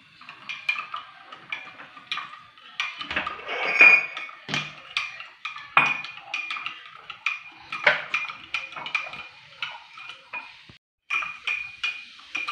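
A metal spoon clinks repeatedly against a cup while stirring strong black tea, giving close, bright, irregular taps and scrapes over a quiet background.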